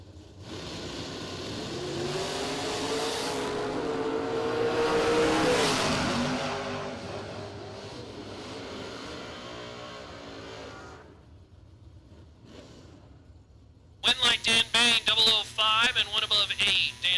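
Drag race cars, among them a 1967 Camaro, run at a drag racing event. A loud engine roar builds and then fades into quiet, before sharp, pulsing high revving breaks in near the end.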